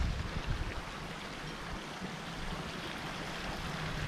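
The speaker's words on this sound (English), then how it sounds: "Watering rice bed." Water runs steadily while a rice bed is watered in rural Bali, a constant broadband wash that holds even and unbroken, with a slightly heavier burst near the start and no voices.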